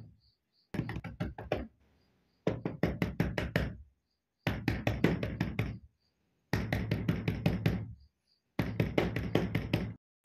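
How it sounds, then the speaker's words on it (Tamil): Someone knocks on a door in five rapid, forceful bursts of raps separated by short silences, loud and close. "கதவு தட்டுற சத்தம் நின்றுச்சு"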